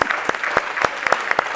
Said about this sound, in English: Yes, you all may applaud.